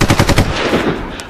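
Gunshots fired nearby on a forest trail: a fast, loud burst of several close shots followed by a fading echo, with no talk.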